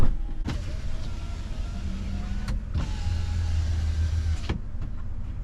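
Power sliding rear window of a 2024 Chevrolet Silverado ZR2 Bison whirs open and shut, two steady motor runs each ending in a clunk, heard close inside the cab without talk.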